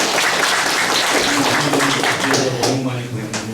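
Audience applause at a town hall meeting with Godeok-myeon residents hosted by the Yesan county head, dense continuous clapping from a seated crowd, with a voice faintly audible beneath it.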